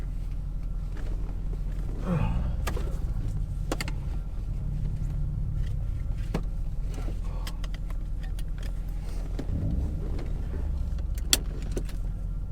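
A 2001 Chevrolet Corvette at speed on a racing circuit, its engine a steady loud drone with rising and falling pitch sweeps as it shifts and accelerates, plus brief sharp clicks, with no talking.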